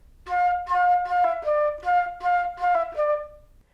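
A solo flute plays one measure, about eight clear tongued notes in a short rhythmic phrase, close and bright with no talk.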